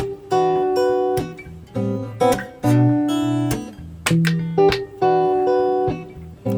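Guitar plays a verse section recorded into a NUX Dual Loop pedal, with ringing chords and picked notes in a moderate rhythm, fairly loud and close with no voices.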